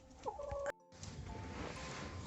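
A chicken clucks in a yard during a snowy winter in Krasnodar, a few short close calls early on, followed by a cut and steady outdoor background noise.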